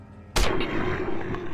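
A single loud gunshot from a weapon in Fallout: New Vegas cracks sharply and then rolls into a long, rumbling decay that tails off for over a second, with no talking over it.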